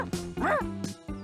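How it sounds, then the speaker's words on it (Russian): A cartoon dog barks in a short burst of sharp, yipping woofs, near and fairly loud, with a whimpering tone, in an animated series scene. "Так в этом парке еще и собаки есть?"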